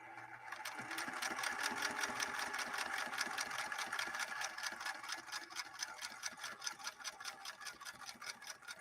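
An 1872 Singer Merritt sewing machine stitches a seam, a fast, even mechanical clatter that runs steadily and close for several seconds after a brief start, with no voices over it.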